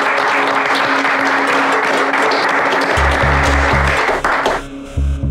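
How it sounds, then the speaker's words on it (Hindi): Loud, dense applause from an office group welcoming a new team member fills the whole scene as a continuous wash of clapping. Low, pulsing music comes in underneath partway through before the clapping thins out near the end. "तालियों से स्वागत कीजिए हमारे नए चैंपियन का।"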